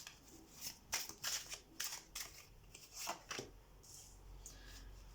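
Tarot cards are drawn and handled one after another, producing a series of quiet, crisp paper slides and snaps at an irregular rhythm.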